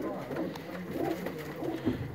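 Blue kamagar pigeon cooing in soft, low repeated phrases, three or four coos spread across a steady background murmur, close by and fairly quiet.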